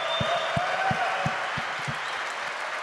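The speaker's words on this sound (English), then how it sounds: "everybody needs to give him a round of applause" A crowd applauds steadily at the Bitcoin Conference 2025, a dense wash of clapping heard at moderate distance, with a few low thumps pulsing through it.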